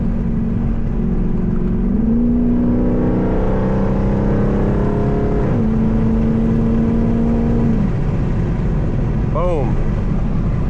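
A tuned Jeep with a 5.7 engine accelerates hard under a loud, rising engine drone, with the pitch dropping at two paddle-shifted upshifts before it climbs again.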